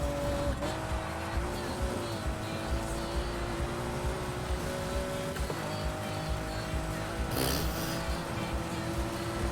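SUV engine driving offroad in a racing video game, with a steady droning motor that changes pitch as gears shift, a brief burst of scraping or spray near the end, loud and continuous.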